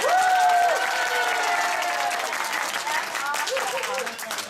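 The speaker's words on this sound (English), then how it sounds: "Louder clap!" An audience at a business seminar breaks into dense, sustained clapping mixed with crowd noise and overlapping voices, loud and steady throughout.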